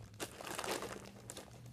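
Plastic packaging of a squishy parcel crinkles and crackles steadily as it is cut open with scissors, with a few sharper rustling bursts, close and fairly quiet.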